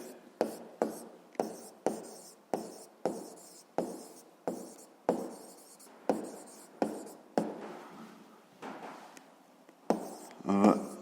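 Pen strokes scratching across paper during a physics lesson: a steady series of sharp, decaying scratches roughly every half second, close and fairly quiet, ending in a rougher scribble.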